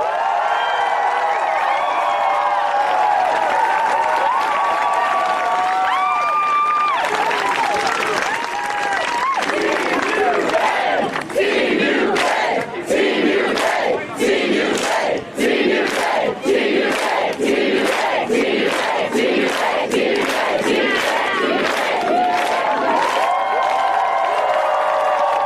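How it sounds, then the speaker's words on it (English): A large crowd at the 2016 Quidditch World Cup applauds loudly and steadily, with cheers and whoops rising over the clapping for a long stretch. "A huge round of applause for Team UK,"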